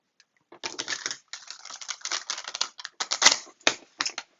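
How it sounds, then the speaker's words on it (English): A deck of playing cards is shuffled by hand during a tarot-style reading, a close, crisp riffling flutter in quick bursts separated by short pauses. "let me shuffle the cards"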